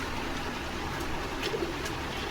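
Domestic fancy pigeons at a bird market coo softly, a few low, rounded calls rising over a steady, noisy background without voices.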